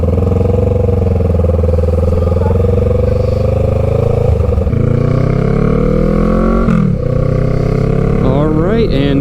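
A Honda Rebel 500 motorcycle carrying a passenger rides off, its engine loud and close with a steady drone that rises through the gears between brief shift dips.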